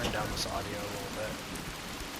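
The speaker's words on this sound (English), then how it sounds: "It's raining because I have a thunderstorm weather station over there." Rain from a thunderstorm in the video game Fallout 76 patters steadily on surfaces as a soft, continuous hiss, with no distinct thunder clap.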